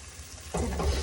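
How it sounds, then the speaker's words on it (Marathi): Tomatoes sizzle and are stirred in a pan while cooking down for pav bhaji, a soft background hiss rising into a louder, close scraping sizzle halfway through. "या ठिकाणी हे बघा टोमॅटो खूप छान परतून झालेला आहे"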